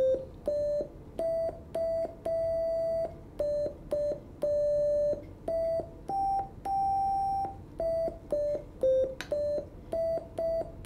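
Homemade digital piano circuit from an electronics lab, playing a quick melody of pure electronic beep tones at different pitches, each note short and separated by brief gaps, clear and alone.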